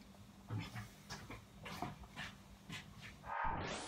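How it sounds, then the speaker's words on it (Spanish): A dog whimpers and yips excitedly while being readied for a walk, with several short cries scattered over a quiet indoor background and a brief clatter near the end. "me voy a sacar al perro"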